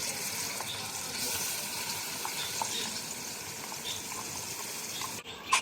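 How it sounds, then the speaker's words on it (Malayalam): Ground green chilli and onion sizzle in hot oil for an African-style spicy mandi, giving a steady, soft frying hiss with faint stirring clicks throughout. "ഇനി അതിലേക്ക് കുറച്ച് ഓയിൽ ആഡ് ചെയ്ത് കൊടുക്കാം അതിനുശേഷം ഇവർ അരച്ച് വെച്ച പച്ചമുളക് സവോള അതിലേക്ക് നന്നായി മിക്സ് ചെയ്യും"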